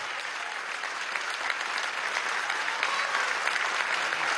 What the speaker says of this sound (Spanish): A todos los profesionales, pues, de la medicina y de la salud, un gran aplauso